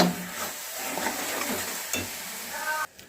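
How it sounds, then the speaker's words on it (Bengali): Powdered milk being stirred into a jaggery filling for patishapta pitha over a low flame, a soft continuous sizzle with light scraping strokes, close, ending abruptly with no talking. "এবার এটাকে একটু মিশিয়ে দিচ্ছি।"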